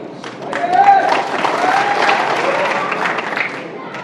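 Applause from a crowd at a political speech in Malegaon, a few seconds of dense clapping with background crowd noise and voices mixed in.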